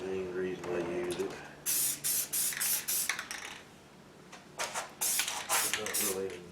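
Short aerosol spray can bursts of paint onto a cannon part during restoration, a series of hissing sprays coming in two clusters, near and fairly loud, with someone talking in the quieter gaps.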